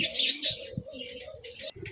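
Pigeons at a farm coo in soft, repeated throaty calls, close by and layered over one another, with a brief thump partway through.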